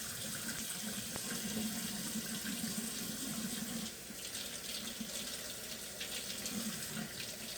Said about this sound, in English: Just kind of rinse it off a little bit.